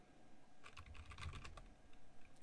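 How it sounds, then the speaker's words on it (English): A password is typed on a computer keyboard in a quick burst of soft, close key clicks over about a second, followed by a quieter gap and a few scattered taps. "So I'm typing in the password"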